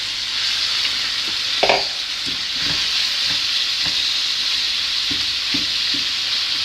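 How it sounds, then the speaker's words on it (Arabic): Ground meat goes into a pan of sautéed onion and garlic and fries with a loud, continuous sizzle. A clatter of stirring comes early on, then softer scrapes of stirring follow, with no voices. "دحين نحط عليها اللحمه"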